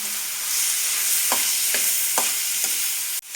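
Steady loud sizzling of ridge gourd frying in a tempering in a pan, broken by several scraping strokes of a spoon stirring through it.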